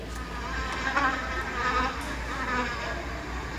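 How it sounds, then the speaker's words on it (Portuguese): A steady, continuous buzz of a housefly close by, droning on without pause throughout. "Nossa, esse zumbido eu conheço. As moscas."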